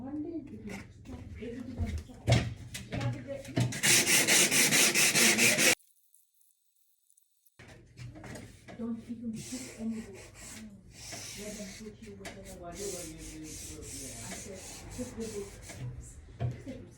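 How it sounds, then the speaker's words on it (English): An MDF woodwork piece being sanded by hand with a sanding block: harsh rasping rubs in quick strokes, a brief pause, then more scratchy back-and-forth passes, with a voice talking over parts of it. "And now let's do the sanding."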